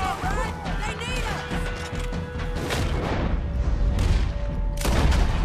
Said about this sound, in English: He keeps on shooting.